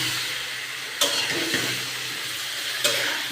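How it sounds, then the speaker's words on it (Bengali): Beef is fried and stirred with spices for a bhuna in a pan, with a continuous close sizzle, soft scraping and a few sharp spoon knocks against the metal. "মাংসটা ভালো মতো কষাতে হবে।"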